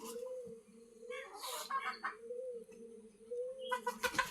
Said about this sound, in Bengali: ফাউমি মুরগি, তার সঙ্গে দেশি মোরগ।